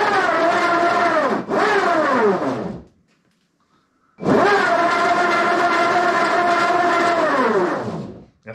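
A large wooden planetary gearbox driven by a motor at full speed gives a loud, harmonic whine and rumble. It winds down briefly, falls silent for about a second, then spins up again and roars steadily before dropping off.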